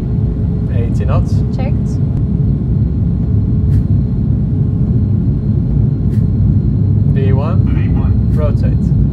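Airliner jet engines roar as they spool up toward takeoff thrust, a heavy continuous rumble heard from inside the cockpit while pilots talk over it in short callouts.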